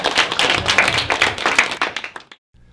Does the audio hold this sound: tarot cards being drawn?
no